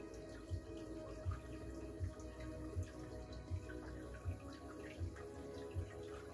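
Water runs steadily into an aquarium during a water change, a soft continuous flow with faint rhythmic pulses and no talk.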